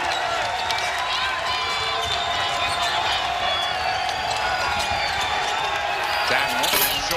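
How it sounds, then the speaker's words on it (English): A basketball arena crowd for a Dayton game roars in a loud, sustained wash of cheering and whistling, with shoe squeaks on the court, rising near the end and continuing without a break. "And how about this Dayton crowd?"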